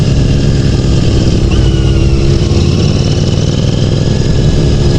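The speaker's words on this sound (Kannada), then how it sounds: "ಬೆನೆಲಿ especially made for only sound, it's not for speed because of those 4 cylinders engine" A Benelli TNT 600 motorcycle with a four-cylinder engine idles close by, giving a loud, steady, unbroken rumble with a slight uneven burble throughout.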